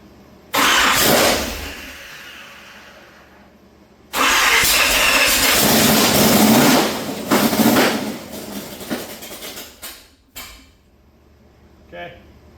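A big block Chevy engine, long unrun and on open headers, cranks and fires loudly, running in two sustained bursts with a gap between, then cutting out into quieter clatter.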